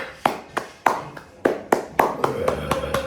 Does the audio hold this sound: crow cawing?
no